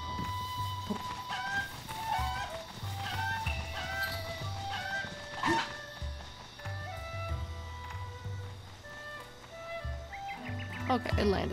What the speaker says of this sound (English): Oh my god, hi chicken.